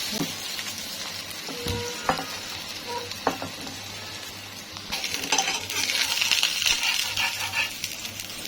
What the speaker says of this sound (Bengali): আমি একটা ডিম ভেজে নেব